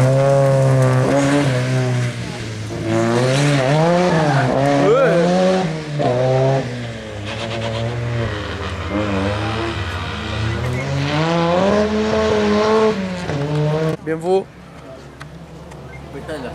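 Rally cars on the Chieri rally stage, Nino Fornaca special stage, roar past with revving engines rising and falling and passing sweeps under persistent spectator chatter, ending in a sharp burst.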